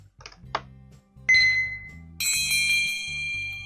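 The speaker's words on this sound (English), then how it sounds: "The bells sing." Bells in the video game Tailor Tales ring out in bright, sustained metallic tones, one strike at first and then a fuller chime layered over a soft repeating musical backing.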